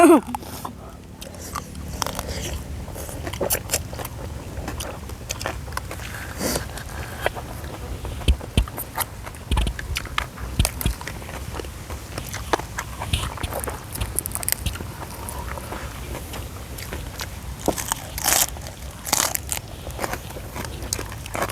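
Someone bites and cracks into a steamed black crab shell and claws, with repeated close crunches, snaps and chewing spread irregularly throughout, alongside faint background noise.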